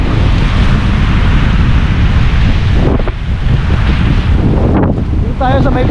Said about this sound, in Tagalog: Ito mahangin.